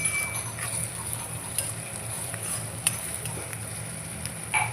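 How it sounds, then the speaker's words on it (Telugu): Onions fry in oil in a pan with a steady, soft hiss of sizzling, broken now and then by small stirring clicks and knocks, fairly close and without talking. "నేనైతే ఇక్కడైతే ఇంకా ఆనియన్స్ ఫ్రై చేస్తూ ఉన్నాను."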